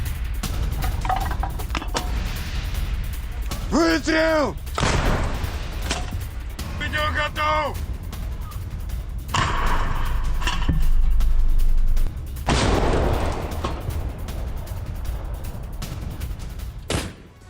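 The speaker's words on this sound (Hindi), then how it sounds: "वहीं डोनेस्क में रूस के आर्टिलरी हमले, यूक्रेनी सैन्य चौकी पर गोलाबारी, यूक्रेन के मोर्टार अटैक में चौकी ध्वस्त हो गई।" Artillery and mortar shelling of a Ukrainian military post in Donetsk, heard as a series of loud, sharp impacts and booming blasts spread across the clip, with a rumbling background and voices under the fire.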